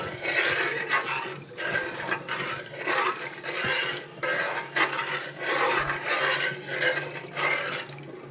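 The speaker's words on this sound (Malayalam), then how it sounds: "ഒന്ന് ഇളക്കി കൊടുക്കാം." A spoon stirs a salted red chilli fish curry in a pan, making soft, rhythmic scraping and sloshing strokes that repeat roughly every second, close and fairly quiet.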